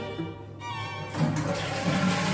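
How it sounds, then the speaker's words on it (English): A public restroom toilet flushing, a close rushing swirl of water that swells and grows louder, with no talking. "Close the toilet seat. Flush."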